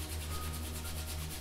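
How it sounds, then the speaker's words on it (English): Palms of the hands rubbed together quickly to build warmth, a steady, close, continuous swishing friction with no pauses and no voices. "just kind of rub the palms of the hands together pretty quickly"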